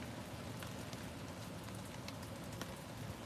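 Heavy rain pours down steadily, a dense, even hiss of drops striking surfaces with occasional sharper individual splats, fairly soft and distant, continuing without pause and with no one speaking.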